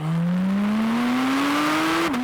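A Porsche 718 Spyder RS sports car engine revs steadily upward in pitch for about two seconds, loud, then drops abruptly as the revs fall.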